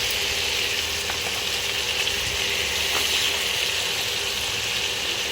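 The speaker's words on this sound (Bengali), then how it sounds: "তো এই দেখো এই যে পাঙাশ মাছগুলো এখন ভাজবো।" Pangas fish frying in a pan gives off a loud, continuous sizzle and hiss with no pauses, with faint clicks and scrapes beneath it and no voices.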